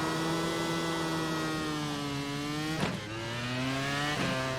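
Race car engine idling and turning at low RPM in the iRacing sim at Long Beach, a steady droning tone with a dip and shift around a gear change, alone without talk.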